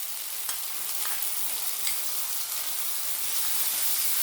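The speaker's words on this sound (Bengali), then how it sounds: "এবার রাঁধুনি বাটাটা দিয়ে দেবো" Ground spice paste with radhuni paste is stir-fried in hot oil for a vegetarian brinjal dish, a dense continuous frying hiss with a few faint scraping stir strokes, close and steady without any voices.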